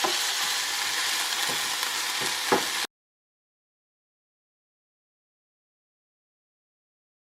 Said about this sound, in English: I'm breaking apart the salmon